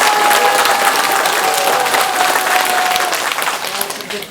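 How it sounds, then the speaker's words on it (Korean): Residents at a township assembly in Okcheon applaud, a loud continuous patter of many hands from start to end, with some voices mixed underneath. "박수 좀 해주시기"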